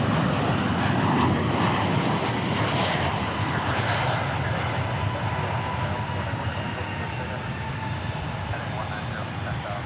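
A United airliner arrives at DFW Airport with a steady, loud jet roar that holds throughout the stretch.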